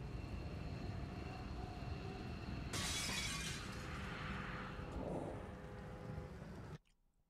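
Glass shatters loudly as a drone in the XCOM Long War strategy game breaks two windows, a sharp crash followed by tinkling debris over a steady ambient rumble, then sudden quiet.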